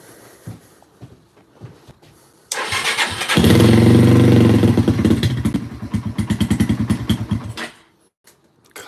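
A Yamaha TTR-230 motorcycle engine is started on choke with a little throttle: it catches after a few seconds of faint clicks, runs loudly and roughly for several seconds with pulsing revs, then dies out.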